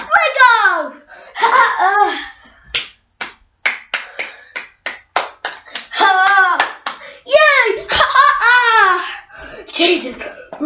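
A child claps hands in a quick run of sharp, close claps between bursts of a voice, giggling and chatter.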